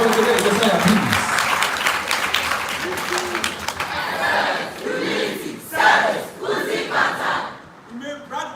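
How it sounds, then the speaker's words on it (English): A school debate contest audience applauds and cheers loudly to welcome the next speaker. The clapping and shouting fade after a few seconds into scattered voices and crowd chatter. "Welcome him with a round of applause as he brings us the summers."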